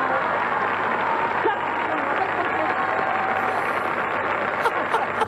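Studio audience applauding contestant number two on a Saturday variety TV show, a continuous wash of clapping held at an even level throughout, with faint background tones and no clear talk over it.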